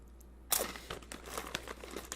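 Crunchy rolled Takis Fuego hot pepper corn chips are bitten and chewed close to the microphone, a sharp initial crack followed by a rapid series of brittle crunches.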